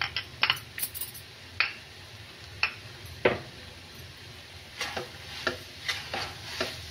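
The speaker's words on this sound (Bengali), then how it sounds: "একটু ছ্যান ছ্যান আওয়াজ আসছে।" Coconut laddu mixture with ground cardamom sizzles gently in a pan, with sharp spatula scrapes and clicks at irregular intervals against a fairly quiet background.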